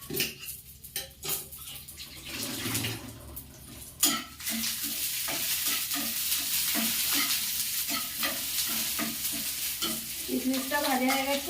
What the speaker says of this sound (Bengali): কিশমিশটা ভাজা হয়ে গেছে, এবার আমি নামিয়ে নেব।